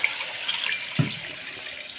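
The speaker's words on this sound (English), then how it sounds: "I'm going to add water" Tap water running into a pot of potatoes for cooking, a steady close gush with a faint thud of the pot partway through, heard alone.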